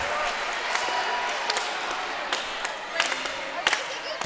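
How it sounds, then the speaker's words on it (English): Fans at a high school volleyball playoff match clap in a quick rhythm in a gym, with sharp ball and floor impacts and crowd noise mixed in and a commentator talking over it. "PW hooligans clapping faster now"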